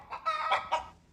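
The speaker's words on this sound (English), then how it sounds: "What a calm, nice chicken." A calm chicken clucks in a short run of three or four close, clear throaty notes with no talk over them.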